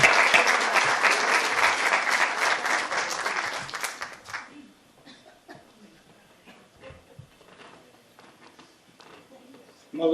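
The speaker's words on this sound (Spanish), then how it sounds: "Un aplauso" A lecture audience applauds steadily for about four seconds, then the clapping fades into scattered murmurs and room noise.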